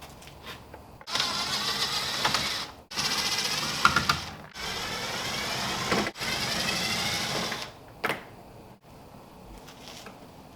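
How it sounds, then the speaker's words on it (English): Phillips head screws being backed out of plastic interior trim on a 1997–2001 Jeep Cherokee near the lift gate, heard as several loud whirring bursts of a few seconds each, separated by brief pauses, with no talking. "start removing all the Phillips head screws from the plastic trim"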